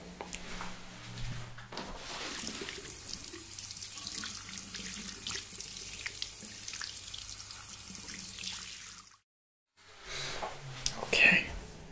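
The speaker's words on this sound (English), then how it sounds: "I'm just going to wash my hands really fast" Tap water running into a sink while hands are washed, a steady splashing flow that stops briefly then resumes, with soft whispered talk over it.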